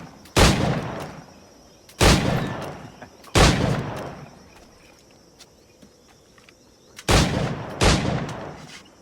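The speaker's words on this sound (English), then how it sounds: "Pull off a few shots if you like, get a feel for it." Five single gunshots from a flintlock-style pistol in Assassin's Creed IV: Black Flag, fired one at a time with irregular pauses of one to three seconds, each a loud sharp crack with a short ringing tail, no talk.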